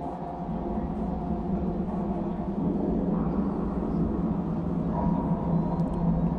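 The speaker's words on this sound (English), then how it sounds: "That is a dark rumbly drone for sure." Speech run through the Zynaptiq Wormhole plugin becomes a dark, rumbling drone, a steady low wash of sound that holds for several seconds with no clear words.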